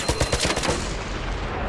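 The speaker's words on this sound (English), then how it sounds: "He has some sort of automatic machine gun." Rapid automatic machine gun fire in the ARC Raiders video game, a loud burst of evenly spaced shots over the first half second that trails off into a rumbling, echoing decay, with no voices.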